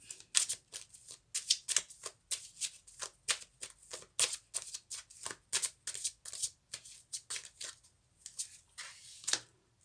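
Tarot cards are shuffled and drawn, giving quick close riffles and flicks in uneven bursts, soft and crisp, with no talking over them.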